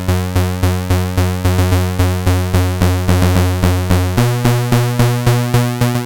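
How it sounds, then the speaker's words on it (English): Analogue Solutions Leipzig-S synthesizer playing a single-oscillator square wave, its pulse width swept by an envelope so each note gives a snappy, shifting tone, in a fast repeating sequence of loud plucked notes that drops in pitch partway through. "I'm going to use envelope 2 right now to control the pulse width modulation"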